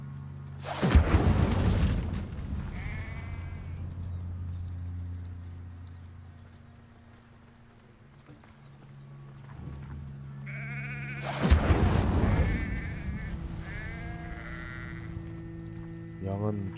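Sheep in a Harry Potter video game bleat in short wavering calls, each set following a heavy thump or blast, with two clusters separated by a quieter stretch over a low ambient hum.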